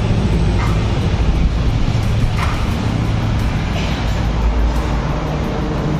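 A Kawasaki Barako 175 motorcycle engine runs through its exhaust with a loud, steady, rough rumble that holds without a break for several seconds. No one talks over it.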